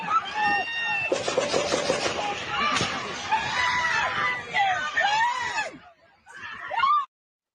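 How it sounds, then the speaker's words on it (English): Several people scream loudly and continuously in a recorded scene, with overlapping shrill voices and crowd babble, briefly dropping out near the end before a final burst. "And a lot of screaming."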